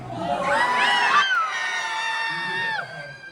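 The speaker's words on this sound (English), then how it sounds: "Let's hear those laughter and those screams." A crowd of voices at a villains-themed game show aboard the Disney Treasure cruise ship yells and cheers in high-pitched sustained cries, loud and close, then drops off abruptly.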